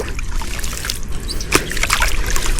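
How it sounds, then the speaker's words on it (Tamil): Water trickles and splashes continuously nearby, a bubbling outflow draining from a waterlogged paddy field with a few louder spatters, outdoors. "இப்போ தண்ணி இப்படி வெளியேறது பாருங்கள்"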